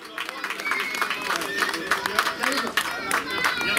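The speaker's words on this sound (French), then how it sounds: "mesdames et messieurs, on peut l'applaudir." An audience claps and cheers for cyclist Corentin Fort at the Tour du bassin d'Arcachon race, a brisk, continuous patter of hands with crowd murmur underneath lasting a few seconds.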